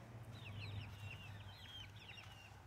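Five-to-six-week-old chicks, pullets and young roosters, peep and cheep softly in a faint, busy chatter over a low steady hum, the high chirps coming in quick clusters.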